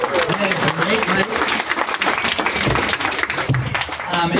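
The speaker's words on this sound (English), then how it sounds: "another huge round of applause for all of the pitches that we heard tonight" A large crowd at an evening startup pitch competition gives a loud, sustained round of applause, dense clapping with voices mixed in throughout.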